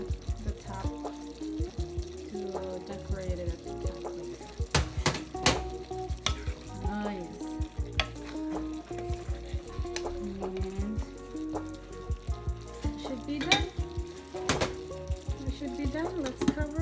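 Chopped onions frying and being stirred in a pan while making eggplant with chicken teriyaki, with steady sizzling, scraping utensil strokes and sharp clatters, under intermittent background music or speech.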